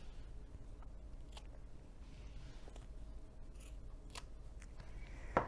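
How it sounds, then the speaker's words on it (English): Scissors trimming the overhanging zipper tape on a hinged zipper pocket being sewn: a few sparse, crisp snips close by over a faint steady hum, with one sharper cut near the end. "we're going to trim the overhang of the zipper tape on either side"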